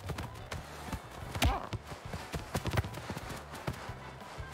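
Cartoon cow running in the soccer video game Soccer Cow: quick, light clip-clop footfalls patter steadily at close range over a low game-music bed, with a brief louder thump partway through.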